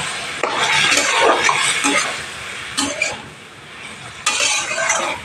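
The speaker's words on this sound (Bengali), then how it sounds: "অল্প অল্প জল দিয়ে সবজিটা কষিয়ে নিতে হবে" Greens and vegetables scraped and stirred in a pan with a metal utensil while cooking with small splashes of water, in Bengali water spinach with khoira fish; busy clattering and scraping sounds close up, with short pauses, no talk.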